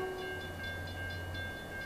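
A small toy train runs steadily with a faint low rumble and a thin high tone, quiet and continuous, with no voices.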